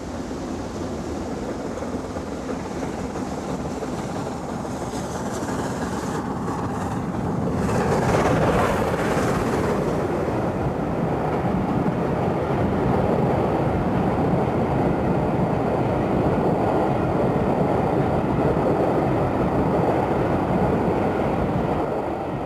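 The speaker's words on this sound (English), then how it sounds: "On the Newcastle Carlisle, the A4 comes round the curve from Wetherall" The LNER A4 steam locomotive Mallard runs round a curve on the Newcastle–Carlisle line, a steady loud rumble of wheels and exhaust that swells as it draws nearer and stays full and continuous.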